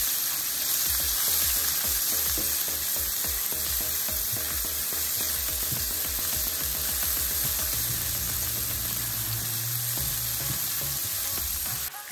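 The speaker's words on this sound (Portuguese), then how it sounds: "A cebola. Damos uma mexidinha." Onions sizzle loudly and continuously in a hot pan after garlic, with the scrape of stirring running through the steady frying hiss.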